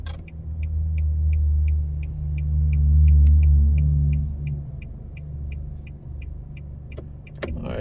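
Car driving through New Kingston, heard from inside as a steady low engine and road rumble with a regular ticking, likely a turn signal, and a couple of sharp clicks near the end; no talk.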